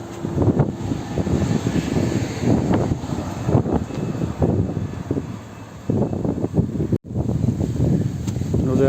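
Strong wind buffeting a microphone outdoors on a beach near the Britain–Spain border fence, a loud continuous rushing roar with gusty surges and a brief dropout near the end.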